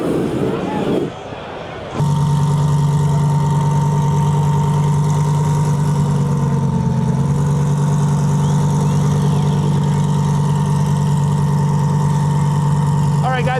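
Drag race cars, a Lamborghini and an Audi RS3, idle in the staging lanes with a steady loud engine drone that holds after a brief dip, with talk over it.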